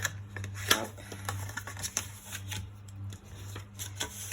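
Paper being creased and folded by hand for a scrapbook gift box, a run of soft, quiet crinkles and sharp little presses over a steady low hum.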